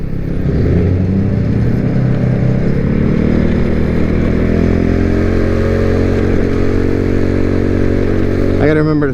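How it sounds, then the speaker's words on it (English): A motorcycle cruises along with a steady, loud engine drone close to the rider, mixed with wind rush, holding a constant pitch for several seconds before a brief rattle at the end. "I gotta remember to slow down more on this bike."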